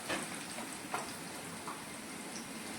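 Onion frying in a pan until fully red, a steady close sizzle and crackle throughout with a few small pops, no talking.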